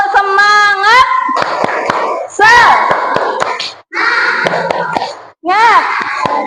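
Second-grade schoolchildren perform a spirit clap, a loud group chant of shouted voices punctuated by sharp rhythmic hand claps in several short bursts with brief pauses between.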